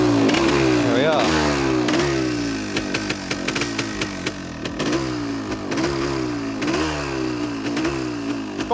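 A 1974 Yamaha DT400 Enduro two-stroke motorcycle engine is revved repeatedly in sharp bursts, rising and dropping in pitch with a crackling, raspy tone, loud and close, with a voice briefly talking over it.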